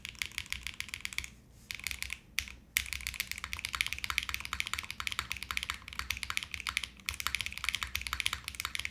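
Rapid, continuous clacking of an Orbit65 mechanical keyboard, close up, with brief pauses between bursts of keystrokes.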